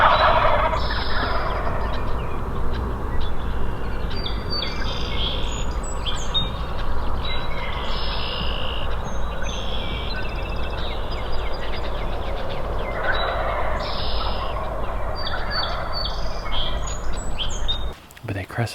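Wild turkeys gobble repeatedly during a spring gobbler hunt in an open field, loud and close, the calls rising in bursts over a steady outdoor rumble.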